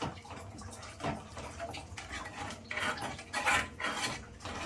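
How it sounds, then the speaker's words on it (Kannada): Water poured into a simmering home-style fish curry and stirred through, with sloshing and soft clinks of a spoon against the pot in short irregular bursts, close by. "ಈಗ ಸ್ವಲ್ಪ ವಾಟರು, ಇದನ್ನು ಕೂಡ ನೀಟಾಗಿ ಮಿಕ್ಸ್ ಮಾಡ್ಕೊಳ್ಳೋಣ."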